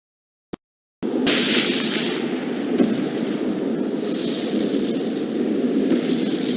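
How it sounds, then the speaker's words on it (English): Bombshells detonating in the Arcane Odyssey video game: after one sharp pop and a short silence, a dense, continuous roar of overlapping blasts runs loud and steady to the end. "Detonating bombshells is super spammy and costs nothing."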